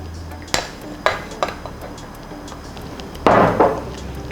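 Shrimp paste being stirred into curry in a pot, sharp metallic clinks and scrapes of a utensil against the pot, a few separate hits and then a rougher scraping burst, with no talk.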